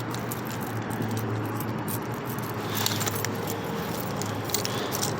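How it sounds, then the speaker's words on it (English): A crowded ring of keys, with an original Cadillac key and a door key for an all-original Cadillac Cimarron, jangles and clicks in brief metallic bursts over a steady low background hum. "I have too many keys on this key ring, I swear."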